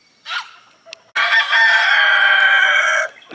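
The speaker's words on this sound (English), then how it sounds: "Sorry about the roosters." Roosters crow in a garden, a short call near the start followed by a long, loud, drawn-out crow lasting about two seconds, close by with no talk over it.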